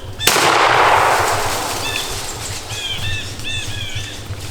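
Shotgun blast fired at a wild turkey during a timber turkey hunt: one sharp, loud report near the start that decays into a long outdoor echo, with bird calls chirping faintly afterward.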